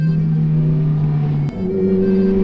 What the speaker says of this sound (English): The V8 and that exhaust, the combination of that and this gearbox with the flappy paddles, I can drop it down very easily and we are off and away.